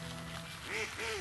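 Ducks give two short quacks in quick succession, faint and somewhat distant over a steady background hiss, with no talking.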